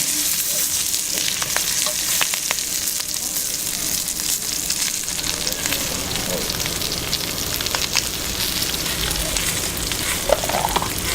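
Chicken pieces sizzle and fry steadily in a hot pan while browning to golden before being flipped, a continuous close crackle with occasional pops and stirring noises, no talk.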